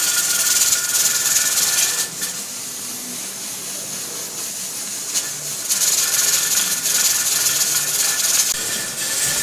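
A pressure canner's weight jiggles at 11 psi while canning turkey stock, giving a loud, steady hiss of venting steam that swells and eases in surges, close up with no talking.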